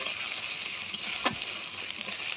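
Ginger and garlic paste sizzles steadily in hot oil in a pan, the base for a snakehead fish curry: an even, close frying hiss with a brief spatter or stir noise partway through, and no talking.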